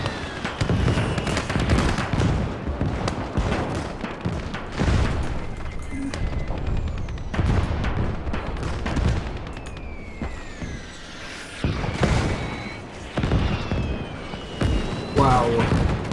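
Repeated gunfire and booming blasts of battle in the WWII game Call to Arms: Gates of Hell on the Eastern Front, a dense run of shots and explosions at close and middle range, with voices talking over parts of it.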